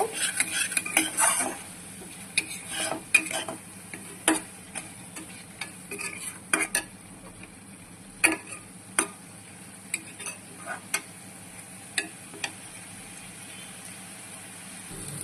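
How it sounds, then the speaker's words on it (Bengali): Turmeric, chilli powder and salt frying in ghee for a prawn malai curry, a faint sizzle beneath repeated sharp clinks and scrapes of a utensil stirring against the pan, close and irregular. "এবার আবার মশলাটাকে আমি ভালো করে ভেজে নেব"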